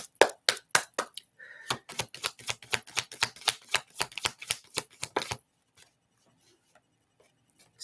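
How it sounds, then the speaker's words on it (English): Tarot cards are shuffled in a rapid, rhythmic series of sharp crisp snaps and flicks, close and clear, for about five seconds before falling quiet, with nobody speaking. "One more shuffle."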